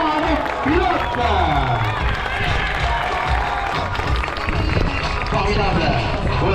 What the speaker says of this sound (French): on va leur donner un tonnerre d'applaudissements à nos pilotes